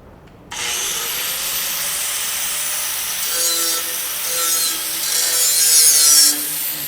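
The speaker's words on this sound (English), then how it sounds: "I'll grind it until it's flat" An angle grinder grinds a flat metal angle piece, a loud steady high-pitched whine that starts abruptly and holds with slight shifts in pitch and pressure, with no voices.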